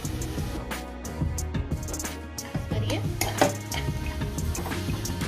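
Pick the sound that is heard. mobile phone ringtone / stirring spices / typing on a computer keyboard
stirring spices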